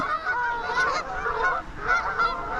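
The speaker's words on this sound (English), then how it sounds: "They're actually Canada geese, I think, most of them, and some gulls." A flock of Canada geese beside the Tardebigge canal locks honks continuously, many overlapping calls at moderate distance forming a noisy chorus.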